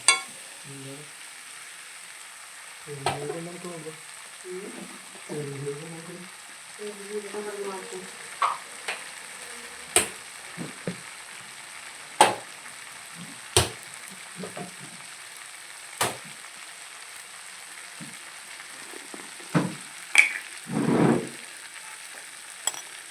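Chicken varattu fries in a pan with a steady sizzle while a spoon stirs it, giving repeated sharp scrapes and clinks against the pan. A voice speaks briefly near the start.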